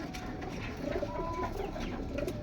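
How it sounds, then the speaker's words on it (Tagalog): Pigeons coo softly in a busy market where pigeons are sold, their low calls mixed into steady crowd murmur and background bustle. "Maraming kalapate oh."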